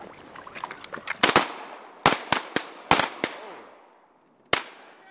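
Shotguns fire during a duck hunt: a rapid volley of sharp, loud blasts comes in quick clusters, followed by one more lone report after a short pause.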